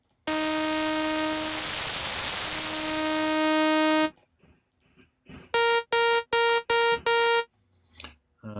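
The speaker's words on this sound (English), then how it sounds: "let's pull down the volume just a little bit on the white noise" A bright synth lead patch from the Vital synthesizer, layered with white noise, plays one long sustained note, then five short rhythmic stabs after a pause.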